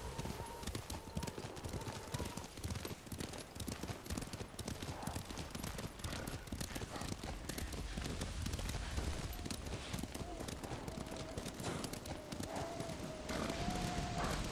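Horse hooves clip-clop in a continuous rhythm while riding through Ghost of Tsushima, with an occasional neigh and faint background music and effects under a steady, busy game soundscape.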